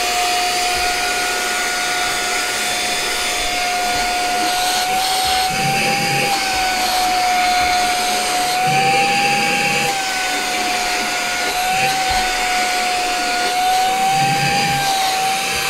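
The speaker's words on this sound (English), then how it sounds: "So you can see it's just sucking up these seeds really easily, right?" A Brigii M1 mini handheld vacuum runs continuously as it sucks up seeds, giving a loud, steady high-pitched motor whine with slight pitch wobbles and occasional rattles of seeds being drawn in.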